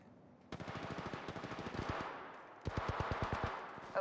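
Rapid automatic gunfire in the Apex Legends Mobile battle royale game, fired in two rhythmic bursts of evenly spaced loud shots separated by a short pause, close and clear with no talk.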